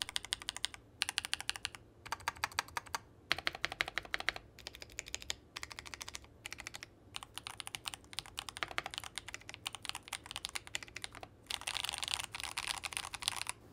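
Steady clacking of a mechanical keyboard with GMK-clone keycaps being typed on in quick bursts, with brief pauses between runs and no voices.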